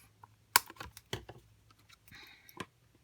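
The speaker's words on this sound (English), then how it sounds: "I'm going to just flip this and snip that little piece off" Scissors snip off a small piece of card for a bridge fold card, a few sharp close clicks and light rustles of paper handling, quiet, with no talk.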